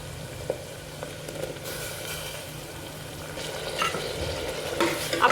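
Cut tomatoes are stirred into tindora and potato frying in a pan, a soft steady sizzle with scraping stirs and a few utensil knocks, growing busier toward the end, no speech.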